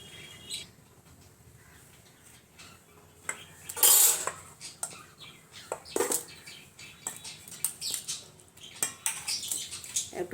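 Ingredients with baking powder and chopped coriander leaves are mixed by hand in a bowl. The sound is an irregular clatter of utensil on dish with scraping bursts and one louder rattle, close and without speech.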